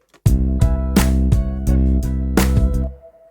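A deep synthesized bass from the Toontrack EZbass plugin plays a bouncy syncopated MIDI groove, short punchy notes with a few accented hits, loud and up close with no voices.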